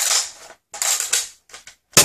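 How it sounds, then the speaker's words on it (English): Magazine-release switch pressed on an entry-level toy blaster, giving a few close mechanical clicks and a plasticky clatter in short bursts, ending with a sharper snap. "Then you press this switch to release the mag."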